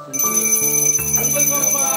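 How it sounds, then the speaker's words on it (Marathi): A small hand bell rings during a Ganpati welcome puja at a Konkan village home, sounding as a bright, sustained metallic tone with several struck accents over about two seconds, fairly close and loud, with voices faintly mixed in. "नंतर घंटी वाजव"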